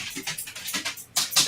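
A dog pants and snuffles in quick rhythmic bursts, close by, with two sharper louder breaths near the end; no talk over it.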